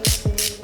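A hand ratchet clicks in quick, evenly spaced strokes, close and sharp, as it tightens a bolt on a Honda CBR300R engine during a rebuild; a short burst of about three clicks with no talk.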